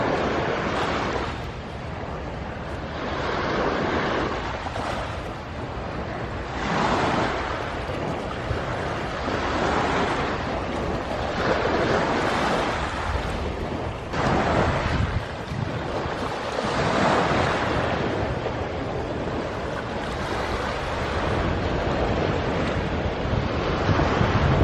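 Sea waves and wind at the seaside, with a steady roar of surf rolling in repeated surges and gusty wind buffeting the microphone throughout, and no voices.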